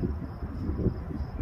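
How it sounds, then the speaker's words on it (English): Wind blows across an outdoor shooting range, a low steady rumble buffeting the microphone, with a faint insect-like whine high above and no speech. "I do apologize for the wind as well."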